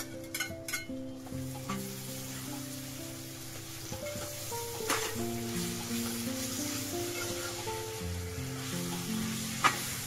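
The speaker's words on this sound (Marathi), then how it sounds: "कांदा आपला चांगला भाजून घेऊया." Onion frying in oil with ginger garlic paste and cumin makes a steady, soft sizzle with occasional stirring clicks, with background music playing over it throughout.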